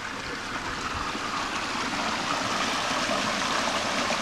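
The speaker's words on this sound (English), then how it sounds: "Just love the sound of rushing water." Steady rushing water from a stream in Scotland, a constant close hiss and burble with no pauses.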